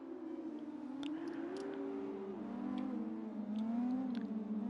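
F2 race car engine in a racing video game on the formation lap, the driver weaving hard to warm the tyres: a steady droning engine tone rising and falling in pitch, continuous and moderately loud, with no talk.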